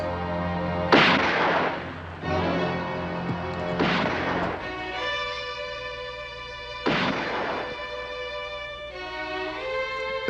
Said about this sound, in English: The 3 shots were intended as a warning